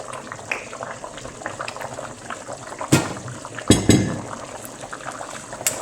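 Bean soup bubbles at a rolling boil in a pot, a continuous close gurgle and hiss with a few louder surging bursts partway through, no talking.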